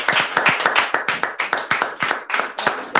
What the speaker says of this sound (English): I clap for Victoria now.